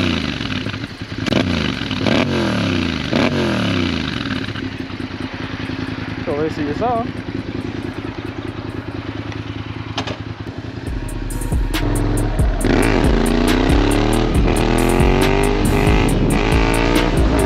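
A Yamaha MT-07 motorcycle engine revs close by with repeated throttle blips, then pulls away into a louder rising acceleration while riding. Someone speaks briefly over it.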